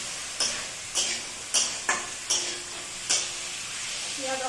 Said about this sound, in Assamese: তাৰপিছত মই সিজাই থোৱা বুট আৰু আলুখিনি এনেদৰে দি লওঁ। অকণমান লৰাই দিব লাগিব।